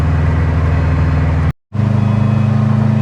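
A Subaru with a freshly assembled engine drives along, its engine giving a loud, steady, humming drone with strong low tones. The sound cuts out abruptly for a moment midway, then resumes at the same pitch.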